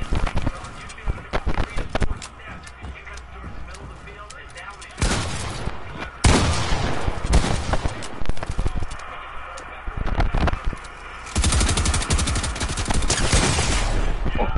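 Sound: gunfire in a video game

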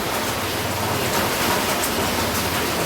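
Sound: heavy rain falling

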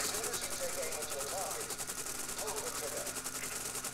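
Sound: guns firing in War Thunder video game

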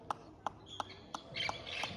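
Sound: birds and parrots calling in the Guatemalan jungle

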